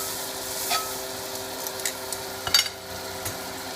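Butter melting in a hot pan ahead of a boneless ribeye, giving a steady soft sizzle under a few clinks and scrapes of a utensil against the pan, close by.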